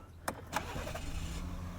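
A 2018 Ford F-150 Powerstroke diesel cranks with two sharp bursts, catches, and settles into a low, steady idle rumble heard from inside the cab.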